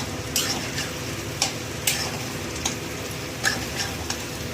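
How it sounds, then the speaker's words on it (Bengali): Onion and garlic fry in a pan for chicken ghugni, a steady sizzle under sharp spatula scrapes and taps that come every half second or so, close and alone. "নাড়াচাড়া করে নেবো পেঁয়াজ আর রসুনটা"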